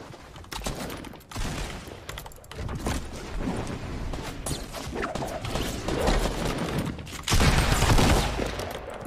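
Rapid shotgun blasts and scattered gunfire in a Fortnite battle, loud and close, firing in irregular bursts with a heavy cluster near the end.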